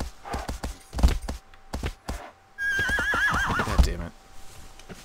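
A horse in the video game Shadow of the Colossus whinnies in a shrill, wavering call after a few dull thuds and hoof-like knocks, with some low background noise.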